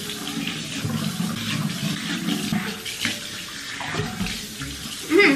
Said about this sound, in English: since I can't drink water, I am going to splash it on me